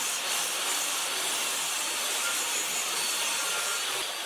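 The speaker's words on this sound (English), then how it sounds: "I took them to my table saw to rip them down to the right width" A table saw rips wooden spacers to width, giving a continuous loud, hissing whine of blade cutting through wood that holds steady throughout, close up and with no talk.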